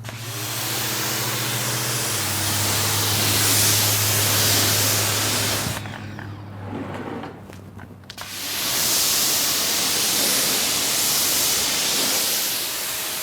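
A Ryobi pressure washer fitted with a 3.0 nozzle, running at about 1,050 PSI, sprays with a loud, steady broadband hiss over a low hum. The spray cuts out for about two seconds midway, then resumes.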